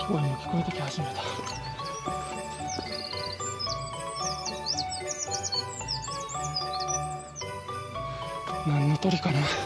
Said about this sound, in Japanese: 鳥の鳴き声も聞こえてき始めた。